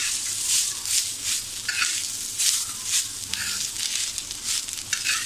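Garlic cloves, ginger and fresh grated coconut roast in a pan, a steady bright sizzle broken by repeated scraping stirs at an even rhythm, close and fairly loud.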